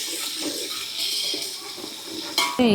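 Two tablespoons of ginger garlic paste frying with whole spices in a pot for mutton keema biryani. Steady, close sizzle, then a sharp metallic utensil clink near the end.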